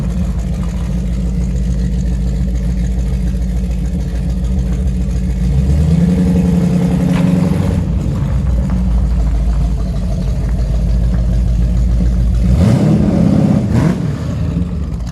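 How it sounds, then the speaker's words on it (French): Ultima GTR sports car engine roaring close by, a loud sustained drone that swells twice into sharp revving bursts, with brief dips between them and no talking. "Bon, et bien voilà pour le tour dans cette Ultima GTR."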